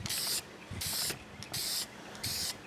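Short hissing bursts of spray paint hit HMMWV Humvee soft doors, four evenly spaced sprays of roughly half a second each, close and fairly loud, with quiet gaps between.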